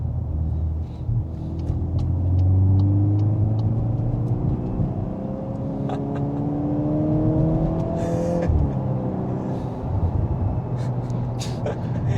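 A Volkswagen Golf R (Mk8.5) engine hums and revs through rising and falling gears, a steady low drone with a brief shift midway, heard from inside the car.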